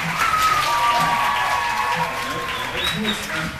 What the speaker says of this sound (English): Ladies and gentlemen, some applause for Sandrine.